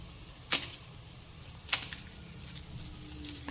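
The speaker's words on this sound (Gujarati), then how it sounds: "તો તેમાંથી હું તમને એક પીસ તોડીને પણ બતાવું." Crispy fried masala khakhra, a traditional flatbread snack, snapped by hand in a home kitchen: two sharp, dry cracks about a second apart over a quiet background.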